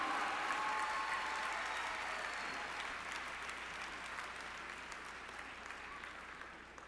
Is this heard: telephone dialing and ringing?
no